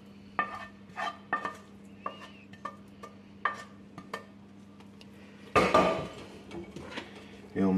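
Squash, bacon lardons and onions tossed together in a baking dish with a utensil, giving a run of irregular close clacks and scrapes, then a louder, denser stretch of scraping and clatter near the end.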